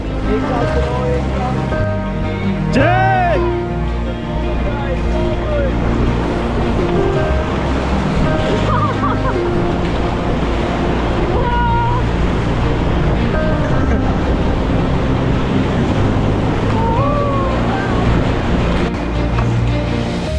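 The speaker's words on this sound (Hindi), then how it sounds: "और फाइनली हमने राफ्टिंग शुरू किया।" A raft runs the Ganges rapids at Rishikesh, with a loud continuous roar of churning whitewater and wind buffeting the microphone, and scattered shouting voices rising over the water.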